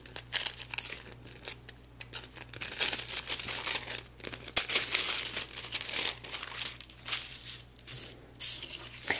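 Die-cut tissue paper favors are unfolded by hand, giving bursts of soft crinkling and rustling in irregular waves, close up and fairly quiet, with no talk.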